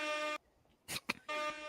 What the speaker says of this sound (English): it's the DJ air horn